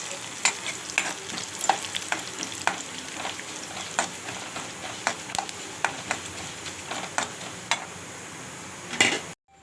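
Cashews and black pepper frying and being stirred in a pan for ven pongal: a steady sizzle broken by repeated sharp clinks of a spoon against the pan, close and fairly loud, with no talking.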